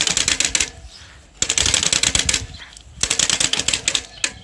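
Rapid clattering flaps of a stiff plastic card against spinning bicycle spokes, in three bursts separated by short pauses.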